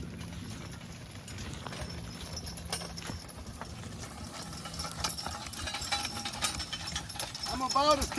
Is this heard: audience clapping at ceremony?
no